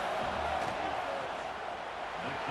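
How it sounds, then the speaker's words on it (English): A stadium crowd in the College Football 26 video game roars during a field goal attempt, a dense, steady wash of cheering and shouting that holds at high volume for the whole short stretch. "This crowd trying to do its part to get inside the kicker's head."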